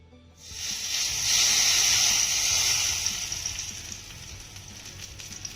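Mustard seeds and cumin sizzle in hot oil for a tempering poured over a roasted colocasia-leaf chutney: a sharp, loud, steady hiss that starts abruptly, peaks, then slowly eases, with no voices.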